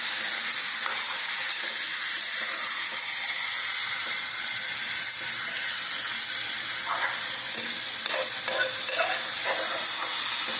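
Chicken pieces and tomatoes sizzling and frying in a pan for a tamarind chicken curry, with steady broadband hiss and occasional stirring scrapes, close and continuous with no talk.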